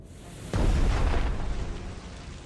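Torpedo explosions from the naval strategy game Strategic Mind: The Pacific: a sudden heavy blast followed by a loud, rumbling boom that rolls on for about a second and then fades away.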